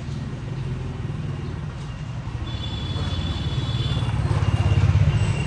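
Traffic of many motorbikes in narrow Vietnamese streets, a continuous close engine drone with buzzing revs that grows louder toward the end.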